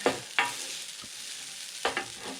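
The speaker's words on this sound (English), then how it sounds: "So I will just mix it up a little bit with the old spatula there." Food frying in a home pan in Japan while a spatula stirs and scrapes it, with a steady sizzle and a few sharp, close scraping strokes spaced through the short stretch.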